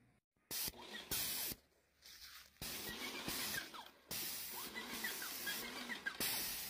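Bursts of loud, close spray hiss as sealer is sprayed onto century-old wooden farmhouse beams, starting and stopping several times, with short pauses between passes and faint rustling underneath.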